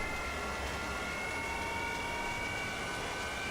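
The left engine of an F-4 Phantom II runs in a flight simulator at Amberley, holding a steady, even turbine roar with a faint high whine throughout.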